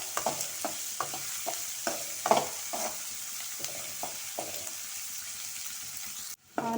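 Onion and garlic sautéing in a pan for an ivy gourd and chickpea stir-fry, soft sizzling under a series of regular spatula scrapes and taps, fairly quiet and close, ending in a sudden clatter.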